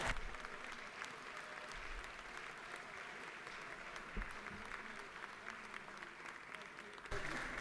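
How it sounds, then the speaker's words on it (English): Steady applause from a crowd in a state House of Representatives session fills the whole stretch, a continuous wash of clapping with a brief surge near the end. "Let's give them a round of applause, please."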